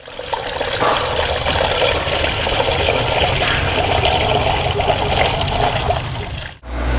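Water pours steadily into a Chevrolet Corvette Z06 intercooler expansion tank with a constant rushing, gurgling flow, loud and close, cutting off abruptly near the end.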